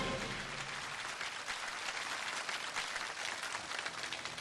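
A studio audience applauds steadily throughout, dense and even, greeting the director of the China Printing Museum as he takes the stage at a televised lecture.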